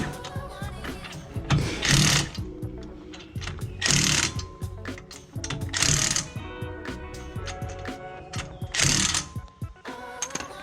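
Wheel studs being run down and tightened with an impact wrench during wheel stud installation, with several loud bursts of ratcheting rattle every couple of seconds over steady mechanical clatter and clinking.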